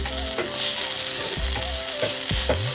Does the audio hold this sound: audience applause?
no